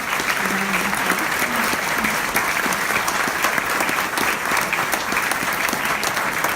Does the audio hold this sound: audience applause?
yes